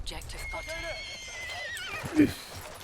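A horse in the video game Battlefield 1 gives a long, wavering whinny, close and clear, followed by a short snort, with hoof clip-clops and a player's voice in the background.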